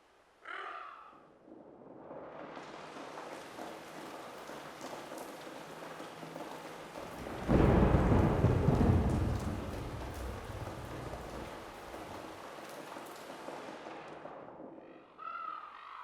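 A thunderstorm and rain weather effect built in Wwise: steady broadband rain hiss fades in, then a deep rumbling thunder swell arrives midway and slowly recedes, with brief bird caws near the start and end.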